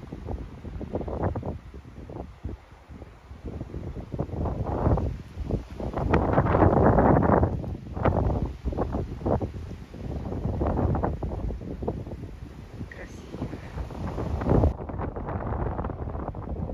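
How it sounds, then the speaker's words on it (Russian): Gusty wind buffets the microphone on the rocky Le Dramont cape in France, rising and falling in irregular blustery bursts, loud and close, with no talking. "начинается ветер"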